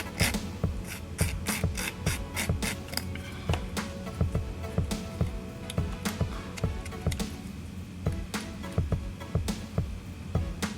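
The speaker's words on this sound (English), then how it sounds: "When you're shaping the nails, you just want to take off a little bit at a time so you can get the perfect shape on your nails." A file shapes Gel X press-on nails with quick, close, steady rhythmic strokes that rasp lightly and continuously, and no one talks.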